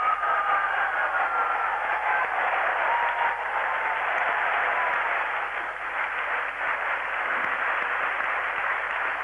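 A 40,000-strong stadium crowd in Karachi applauds a batsman's half-century at a 1987 Pakistan v England World Cup one-day international, a steady, dense wash of clapping and roar held at even loudness throughout, heard from a distance.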